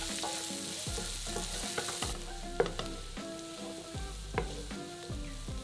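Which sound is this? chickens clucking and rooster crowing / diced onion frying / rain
diced onion frying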